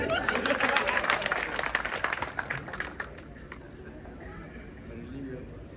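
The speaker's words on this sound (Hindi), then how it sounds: "लगाओ एक बार फिर से ताली।" Audience at an open-air Hindi poetry recital (kavi sammelan) in Neri, Sitapur claps loudly in a dense burst for about three seconds, then the applause thins and fades into a softer murmur.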